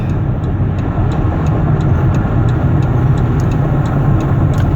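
Steady road and engine roar from inside a 2016 Dodge Caravan wheelchair-accessible minivan cruising on a highway at 65 mph, with a constant low rumble and tire noise throughout and no talking.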